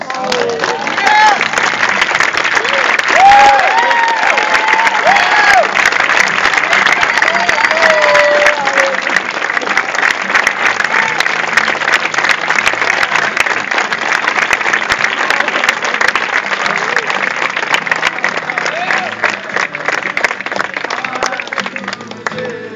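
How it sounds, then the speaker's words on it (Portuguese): A church congregation applauds steadily at a worship service, a dense roar of clapping held at full volume with crowd noise and a few voices rising through it. "se levante e aplauda o nome desse Deus"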